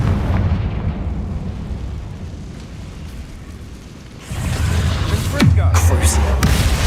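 A Confringo blasting spell in Hogwarts Legacy goes off after a quieter stretch, bursting into a loud booming explosion with a rumbling tail and a sharp follow-up crack.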